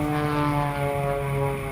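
An aerobatic propeller airplane's engine drones steadily and loudly, a rich harmonic buzz holding constant throughout with no voices.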